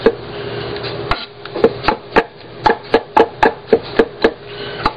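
A knife mincing mushrooms and a large garlic clove on a cutting board, a dozen or so sharp, close chopping knocks landing in a steady, quickening rhythm.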